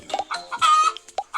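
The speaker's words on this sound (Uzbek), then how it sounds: "Muhammad Ali, meni tovuqlarim ko'rinyaptimi senga?" Chickens cluck in a chicken farm video game: a run of short, close clucks with one longer drawn-out call in the middle, clear and alone with no talk.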